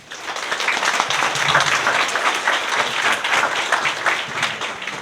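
An audience gives speaker Bob Webster a warm welcome with sustained applause. Many hands clap in a dense, even wash that swells slightly and holds steady for the whole stretch, with no voices over it.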